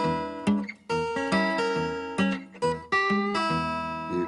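Fingerstyle acoustic guitar plays a small diminished chord in a bouncing rhythm, with plucked bass notes alternating against chord strikes, close and clear with no talking.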